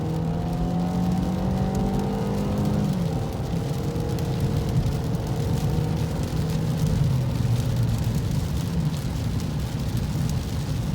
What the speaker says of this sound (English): Another full throttle acceleration here.